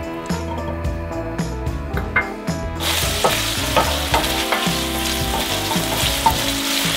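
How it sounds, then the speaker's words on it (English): Bacon frying over medium heat in a large soup pan, a loud steady sizzle and crackle with repeated stirring clinks and scrapes throughout, the spattering growing brighter and fuller about halfway through, with no talking. "First, we're going to fry the bacon over medium heat in a large soup pan."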